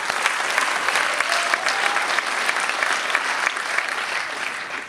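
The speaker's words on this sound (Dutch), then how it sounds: "Mag ik even een applaus voor de sportploegen?" An audience at a Hardenberg sports awards evening applauds the sports teams, including korfball players, with dense, steady clapping that fills the whole stretch at an even, fairly loud level, with no one speaking.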